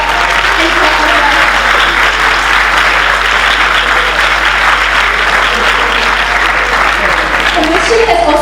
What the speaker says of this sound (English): let's put our hands together and clap for her